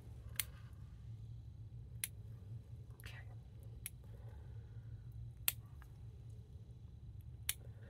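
Scissors snip through the dura mater of a sheep brain during a dissection: a handful of faint, sharp, isolated clicks spaced a second or two apart over a quiet low hum.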